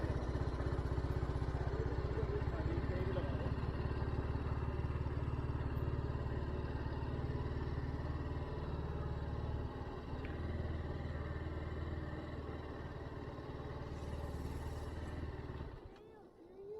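A TVS Apache RR310 motorcycle on a Mussoorie–Tehri mountain road trip runs with a steady low engine rumble and idle. People talk over it, and the engine cuts off near the end.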